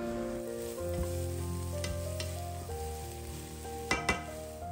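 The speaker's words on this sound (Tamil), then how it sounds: "சேர்த்துட்டு நல்லா வந்து இதை வதக்கிப்போம்." Chopped onions and green chilies sautéing in a hot pan, a steady close sizzle with occasional stirring scrapes and two sharp utensil knocks near the end, with no talking.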